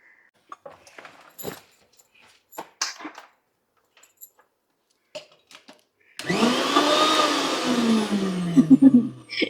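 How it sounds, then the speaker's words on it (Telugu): After a few scattered clicks and handling knocks, a mixer grinder whirs loudly into action grinding roasted rice, its close, steady roar continuing to the end. "ఇప్పుడు మిక్సీ పడుతున్నాను"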